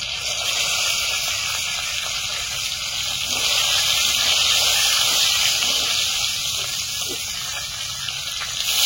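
Katla fish head sizzling loudly in a hot pan with cumin powder, a steady dense hiss that holds close and constant throughout with slight swells, no talk over it.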